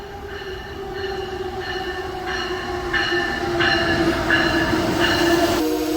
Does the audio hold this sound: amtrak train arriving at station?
yes